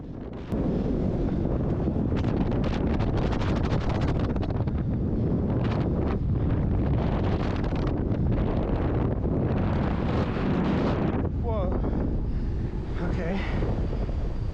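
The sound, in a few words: strong wind on a radio tower climb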